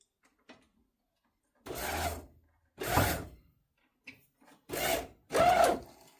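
Power convertible top on a 1971 Mercury Cougar, hydraulic lines still holding air, moving in several short bursts of mechanical grinding and rubbing, with brief pauses of silence between runs.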